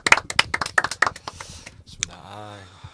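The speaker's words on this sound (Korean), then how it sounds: "응원의 박수 한번 하면서" A small group claps in encouragement at the close of a discussion, a few quick bursts of claps that fade out, followed by a brief low hum.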